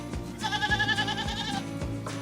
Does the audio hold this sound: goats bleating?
yes